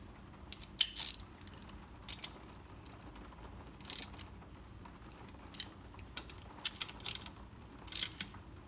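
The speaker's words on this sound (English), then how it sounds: "We'll get a wrench and we'll snug those down." A wrench snugs down bolts on a Sea-Doo Speedster's Mercury Sport Jet pump, with quiet scattered metallic clicks and ratcheting bursts at irregular intervals over a faint background.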